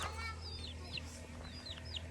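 Chickens cluck and squawk in short upward calls over a steady low hum, several birds close by in a busy farmyard.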